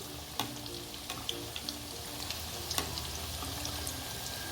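Sweet corn fritters fry in hot oil with a steady, close crackling sizzle, while a few sharp clicks and taps mark them being turned over in the pan.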